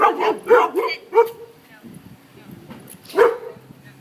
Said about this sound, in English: if they start barking, we're going to practice